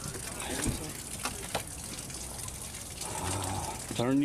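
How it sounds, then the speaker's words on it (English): Water draining from a fishing boat's live well, a steady gushing trickle up close, with voices talking over it near the end. "Open your valve there. Let the water drain out."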